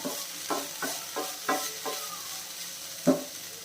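Capsicum stir-fry being stirred in a pan, with a run of regular scraping strokes and a louder final clack against a soft sizzle, close and with no talking.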